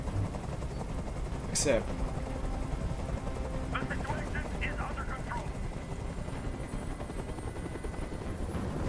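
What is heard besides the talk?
helicopter noise in the video game Detroit: Become Human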